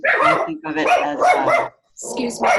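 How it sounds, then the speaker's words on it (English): A dog barks briefly in the background while a person keeps talking in a quiet indoor setting; the barking sits under and between the speech. "that's my dog."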